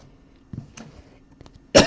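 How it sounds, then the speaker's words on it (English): A single sharp cough into an elbow, close and loud near the end, after quiet handling of football and basketball trading cards during a card break. "I did cough into my elbow there"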